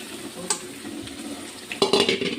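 Boiled mixed vegetables go into hot oil in a pan for Mumbai-style pav bhaji, with a quiet sizzle under soft clinks and a louder clatter of stirring near the end.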